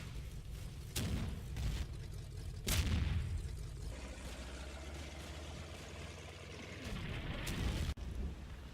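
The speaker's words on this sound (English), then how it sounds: "the 2-inch mortars start to create the smoke screen" 2-inch mortars firing smoke rounds in the video game Combat Mission Fortress Italy, several sharp booms spaced a second or two apart over a steady low engine-like rumble, fairly close and loud.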